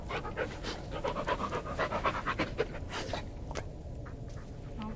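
A dog pants rapidly and steadily in the dark woods of the horror game Blair Witch, the breathy rhythm close and continuous through the clip, with a few faint bird-like chirps near the end.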